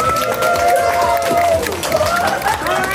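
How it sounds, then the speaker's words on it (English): A crowd at a school district staff awards ceremony bursts into loud, sustained applause for a high school award winner, with cheering and excited voices mixed through the dense clapping. "A round of applause"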